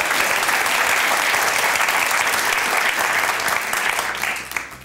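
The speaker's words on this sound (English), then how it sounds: "you can clap" Studio audience applauding steadily for the whole stretch, a dense, sustained wash of clapping that holds at full strength before easing slightly near the end.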